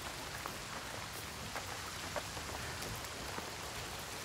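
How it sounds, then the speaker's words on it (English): Steady rain pours down in the dark fantasy video game Hellblade 2, a constant hiss of drops hitting the ground with scattered sharper patters and no voices, moderately quiet and even throughout. "The rain never stops."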